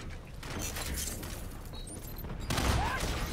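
Gunfire in Call of Duty: Infinite Warfare during a campaign firefight, a muffled rolling fusillade with a louder burst toward the end, mixed with game ambience.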